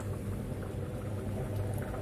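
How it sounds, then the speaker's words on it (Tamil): A pot of cauliflower and potato curry bubbles at a low, steady simmer, soft and continuous, with no voices over it. "குழம்பு இந்த மாதிரி நல்லா தள தளன்னு கொதிக்கணும்"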